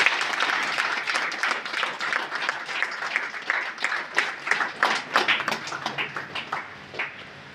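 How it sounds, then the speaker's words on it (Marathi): Loud applause fills a hall at a Buddhist community gathering in Khed, with dense clapping that swells into rhythmic bursts and then tapers off near the end. "जोरदार टाळ्या"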